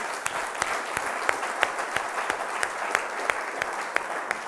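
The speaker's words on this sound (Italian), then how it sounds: "Daniela, un applauso," Studio audience applauds on an Italian television program, a steady dense clapping with sharp individual claps standing out, moderately loud and sustained throughout without speech.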